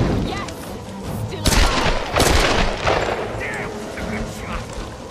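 Gunshots in Tomb Raider, a cluster of loud, sharp cracks with heavy booming impacts over a rumbling in-game backdrop.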